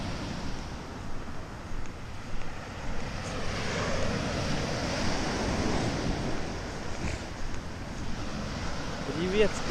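Gentle sea waves wash onto the shore near Antalya, Turkey, on a calm, windless day. The surf is a soft, continuous rush at moderate distance, with a voice briefly heard near the end.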